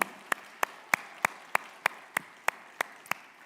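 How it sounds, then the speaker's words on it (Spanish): About ten slow, evenly spaced claps ring out in a church sanctuary, each sharp and distinct over a quiet background, like a small congregation clapping in unison. "eso merece un aplauso al Señor"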